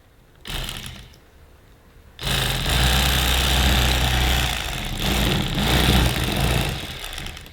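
An electric fillet knife buzzes loudly and close, with a short burst early on, then a sustained motor hum with slight load changes as it cuts through fish.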